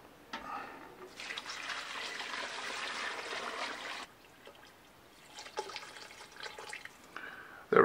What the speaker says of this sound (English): So I'm going to add some water to this pot now.